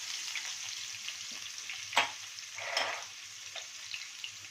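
Whole cumin, chopped green chilli and chopped onion fry in hot oil, giving a soft, steady sizzle with a couple of sharper crackling bursts, close and fairly quiet, with no talking.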